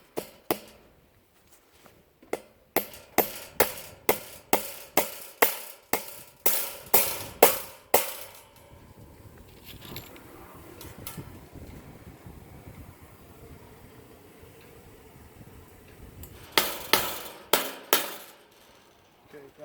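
Fence wire being stapled onto a wooden post for a sheep and goat paddock, heard as quick runs of sharp hammer blows driving staples, one long rhythmic burst followed by a shorter one after a quiet pause.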